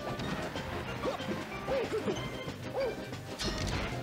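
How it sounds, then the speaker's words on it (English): Two Captain Falcons in a Super Smash Bros. Melee doubles match trade forward smashes that clank, giving several sharp metallic hits and swooping tones over loud crowd and game noise. "Double Captain Falcon clinking their forward smashes."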